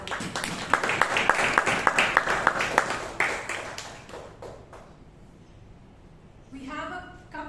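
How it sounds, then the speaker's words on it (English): An audience at a Toastmasters meeting in Bangalore applauds the speakers, a few seconds of brisk, moderately loud clapping in a room that fades away before a voice begins talking. "Can we give a big round of applause to everyone who came up here on stage and spoke?"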